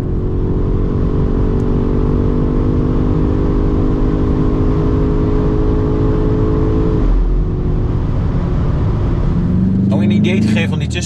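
BMW M5 Touring G99 hybrid estate accelerating hard, a loud sustained engine roar with steady harmonics that dips briefly near the middle and then rises again, with a voice talking over it.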